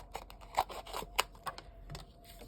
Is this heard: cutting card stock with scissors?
yes